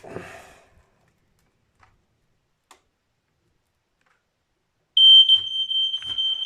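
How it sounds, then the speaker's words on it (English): After a quiet stretch with faint clicks, a smoke and carbon monoxide alarm under test starts a piercing high-pitched tone abruptly and keeps sounding, loud and close. "Fire alarm. Carbon monoxide alarm."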